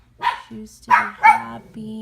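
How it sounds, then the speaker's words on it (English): A dog barks several times nearby in a home, sharp yips and woofs in quick uneven succession, with a person speaking over the barking. "I apologize for the barking."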